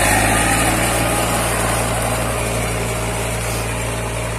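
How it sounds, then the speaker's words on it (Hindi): A Powertrac 439 Plus DS tractor engine runs steadily while pulling a harrow through a field, a loud, close, continuous mechanical drone with no talk over it. "यो ट्रैक्टर खरीदा है मेरे भाई ने आज,"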